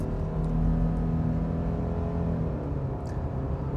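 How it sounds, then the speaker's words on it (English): Inside a 2025 Subaru Forester Sport, the boxer engine hums and pulls under acceleration, producing a steady, moderately loud drone with a faint rise in pitch as the crossover gathers speed. "the engine, it has that typical Boxer growl, but it is a little bit more refined"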